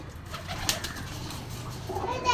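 Pigeons coo softly near a pigeon chick, the low murmuring calls faint and partly buried in room noise, with a brief flutter-like burst partway through.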